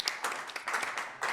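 Brief patter of applause from a small remote audience, a steady burst of scattered hand claps lasting about a second and a half at moderate level.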